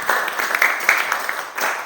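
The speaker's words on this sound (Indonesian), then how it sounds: "Benar, tepuk tangan." Short burst of classroom applause from students in a school lesson, a scattered patter of hand claps rising and falling over about two seconds, fairly close.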